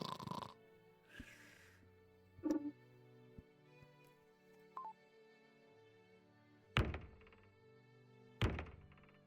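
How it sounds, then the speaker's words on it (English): Several heavy thuds of someone banging on a door in the horror adventure game Ventreville: A Cure for Sorrow, with a couple of early knocks then two loud, close impacts near the end over a quiet tonal game score. "Who's banging on my door?"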